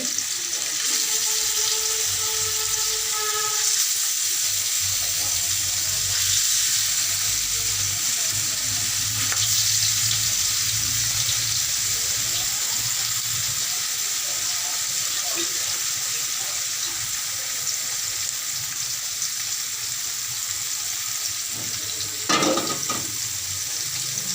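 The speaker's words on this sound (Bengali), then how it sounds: "এখন একটু মিডিয়াম ফ্লেমে দিয়ে আস্তে আস্তে মাছটা দিয়ে দেব। মাছটা ভেজে নেব।" Fish frying in hot oil in a pan over a medium flame, a steady close sizzle throughout with a few faint clinks and a brief knock near the end.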